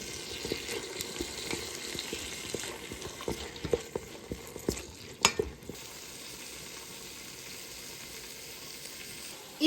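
Masala frying in a pan while chicken sukka is cooked Tulu style, a steady low sizzle with scattered sharp clicks and scraping knocks from stirring in the first half, then an even simmering hiss.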